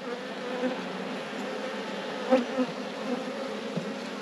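Honey bees buzz in a steady, close drone while hive frames are inspected one by one, with a few louder passes of individual bees near the microphone.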